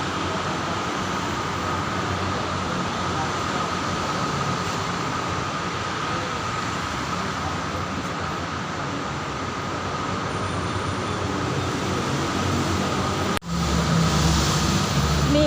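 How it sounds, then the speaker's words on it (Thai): A steady, loud rumble of an elevated electric train rolling past, continuous roar of wheels on track, ending with a sudden shift in tone. "ตอนนี้รถไฟฟ้ากำลังเลนมา"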